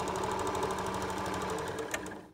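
A sewing machine stitches a seam on a fabric journal cover, running a steady close mechanical whir with short forward-and-back bursts, loud and alone.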